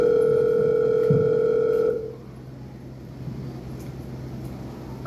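Telephone line tone heard through a receiver, a steady electronic hum that cuts off after about two seconds and leaves faint room noise behind.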